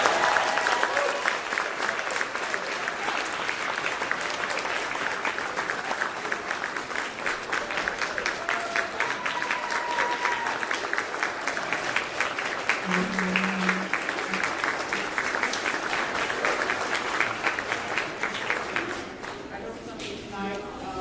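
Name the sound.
audience applause after a concert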